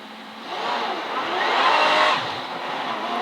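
A V12 race car engine revs hard around the Silverstone circuit, a loud sustained roar that climbs and flares quickly before easing slightly, heard continuously from on board.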